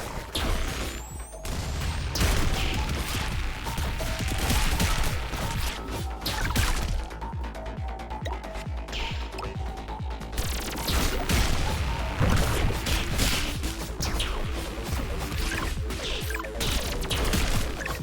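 Dense, continuous crashes and bursts of explosions in the video game Pathogenic, loud and close, layered with clattering game effects throughout.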